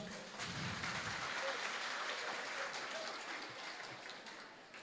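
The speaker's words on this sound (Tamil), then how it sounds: "கை தட்டிட்டீங்களா?" A crowd claps continuously in a dense, even wash of applause, filling the room for several seconds, with faint voices underneath.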